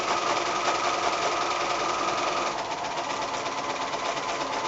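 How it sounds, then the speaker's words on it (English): Sewing machine running a continuous zigzag stitch along a pillowcase seam, a steady fast mechanical whir and rapid needle clatter, close and unbroken, with a slight shift in tone partway through. "I'm just going to go all the way around with my zigzag stitch"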